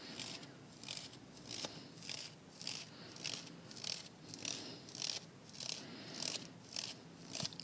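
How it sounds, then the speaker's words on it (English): Paint spattered onto paper by flicking a thumb across a bristled brush, giving a steady series of soft, close raspy hisses about twice a second. "You can see the movement of the thumb, how I am moving my thumb to spray on the paper."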